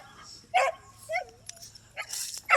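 A dog gives short yips and barks mixed with high whimpers, close by, in brief bursts separated by short pauses.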